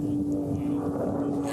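A racing aircraft at the Reno Air Races drones past with a steady, loud propeller-engine hum, continuous across the short moment and overlaid by faint commentary.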